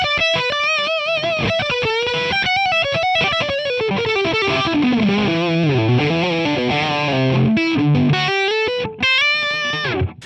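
An electric guitar played through a Revv Generator amp with a Two Notes Torpedo Remote gives a dark, saturated lead tone, with a fluid run of sustained and bending notes and no talking.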